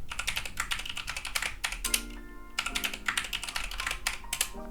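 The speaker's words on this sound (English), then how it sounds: "We're going to type passwd and enter a root password." Rapid, close keystrokes are typed on a computer keyboard to enter a password, in quick bursts with brief pauses.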